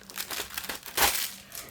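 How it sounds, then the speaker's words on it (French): Glued paper is peeled off an AliExpress or Amazon package, heard as close crinkling and tearing bursts, the loudest rip about halfway through. "j'ai du mal à enlever le papier"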